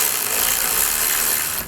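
Power tool snugging bracket bolts for an Aries 50-inch double-row LED light bar on a 2014 Jeep Wrangler, one steady close whir lasting under two seconds before cutting off.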